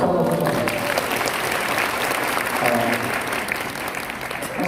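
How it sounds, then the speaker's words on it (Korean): A seminar audience breaks into sustained applause for a pastor's wife, a dense, loud wash of many hands clapping that holds steady throughout and eases slightly at the end. "박수 한번 쳐주세요."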